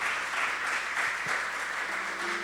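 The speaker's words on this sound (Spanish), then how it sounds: "Eso, dale un fuerte aplauso, Señor." A church congregation claps together, steady applause held at a moderate level for a couple of seconds, with no clear voices on top.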